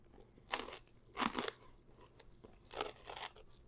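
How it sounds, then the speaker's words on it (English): Crunchy carnivore maffle topped with cheese bitten and chewed close up, four distinct crisp crunching bites in an uneven rhythm, with no talking. "Definitely hear the crunch."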